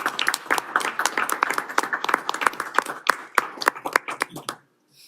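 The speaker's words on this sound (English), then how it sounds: "Let's give him a round of applause." Lively applause from a small audience at a city council meeting, distinct individual claps close by in an uneven rapid patter, tapering off and stopping just before the end.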